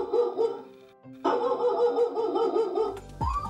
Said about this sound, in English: The alarm has an intelligent barking setting that changes the volume and ferocity of the barks as the intruder gets closer.